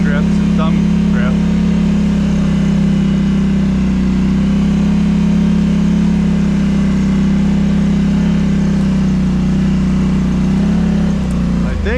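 A Polaris Sportsman 850 ATV fitted with tracks rides along at a steady pace, its engine a loud continuous hum with a slight dip near the end, while someone talks over it.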